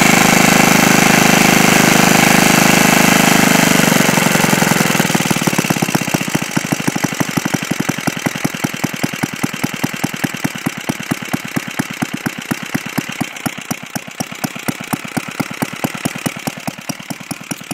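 A small 1948 Briggs and Stratton WI gasoline engine sputters to life, smoking a bit, then settles into a slow, even idle with a rapid regular putter, close and steady.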